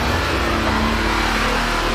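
A Nissan Navara 4X4 revs hard while climbing a hill at a 4X4 park, a loud, steady mid-pitched engine drone held close throughout with no voices.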